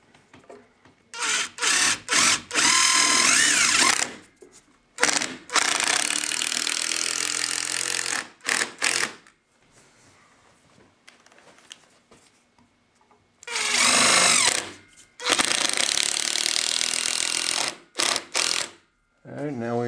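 A power driver sinks screws into a steel lally column base, whirring in several sustained bursts separated by short pauses and near-silent gaps.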